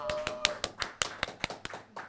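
Scattered, uneven claps from a live podcast audience at a festival in Berlin, a dozen or so sharp hits spread over two seconds, thin and tentative rather than full applause.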